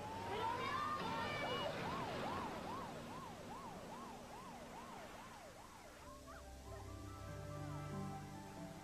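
An ambulance siren wails in a steady rising-and-falling cycle, then shifts into a faster yelp pattern, heard from a moderate distance over vehicle rumble on a rescue call.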